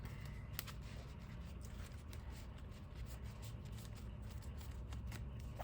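Digimon trading cards shuffled by hand at a table, a soft continuous riffling and sliding with small crisp clicks throughout, quiet and close.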